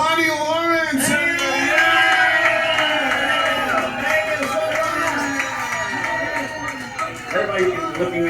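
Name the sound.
crowd applauding and cheering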